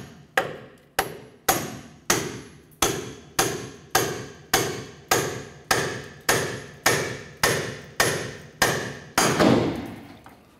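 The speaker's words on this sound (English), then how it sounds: "We're going to use what we call a pickle fork and hammer this in and try and separate that." A hammer drives a pickle fork to separate a ball joint from the steering knuckle on a 1994-2004 Chevrolet S10 front suspension, striking about fifteen evenly spaced, loud metallic blows close by, with no talking.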